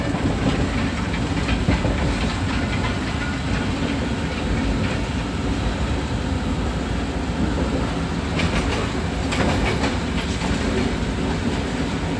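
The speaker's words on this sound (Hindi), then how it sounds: "जेलम स्टेशन में ट्रेन एंटर हो गई है।" A Green Line Express train rolls into Jhelum station in Pakistan on the Rawalpindi to Lahore route, a loud steady rumble of wheels and carriages with clattering rail joints and hiss, heard up close from on board.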